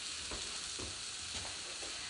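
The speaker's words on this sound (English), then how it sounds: "we have our meat seared on both sides" Meat sears in a hot pan, giving a constant close sizzle with a few soft stirring or scraping touches, no voices over it.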